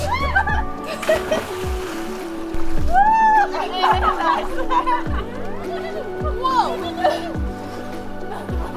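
People leaping from a ship into the open ocean at sea, with repeated splashes and sloshing water amid lively shouting and chatter from a group.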